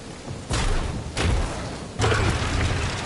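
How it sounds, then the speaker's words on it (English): Drax drags a heavy cannon in Marvel's Guardians of the Galaxy: three loud heavy scraping thuds and slams, each followed by a grinding rumble, close and alone. "Drax, think you can drag this cannon out?"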